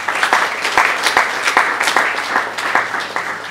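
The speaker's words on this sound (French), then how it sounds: "J'aimerais vraiment que vous applaudissiez les acteurs de ceci." A crowd applauds steadily, a dense patter of many hands clapping at once, sustained throughout.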